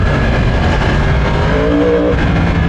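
Yamaha R1M sport motorcycle, a 2024 model, threading through city traffic in Naples, its engine droning steadily and loud up close over a dense wash of road and wind noise.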